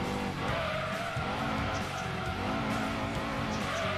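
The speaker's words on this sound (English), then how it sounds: "I'm going to brake just before the 900," A car in Gran Turismo 2 braking hard and downshifting during a licence test, with tyre squeal and engine revs dropping across the gears in a continuous loud run.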